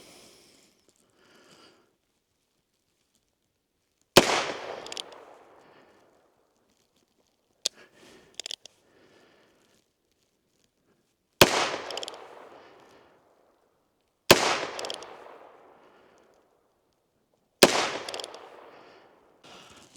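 .22 revolvers fire single sharp, loud shots outdoors during accuracy testing, about five cracks spaced several seconds apart with quiet gaps and small handling clicks between.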